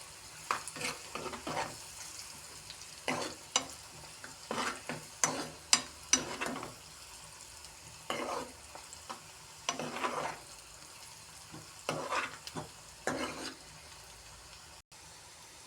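Onions fry in a pan over a gas flame, heard as a soft continuous sizzle broken by frequent stirring and scraping strokes in irregular bursts, close and fairly quiet, with no talking.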